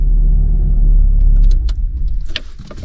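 A Volkswagen Corrado G60 engine idles close by with a low, steady rumble, its idle on the verge of stalling. It cuts off about halfway through, leaving light clicks and a jingle of keys.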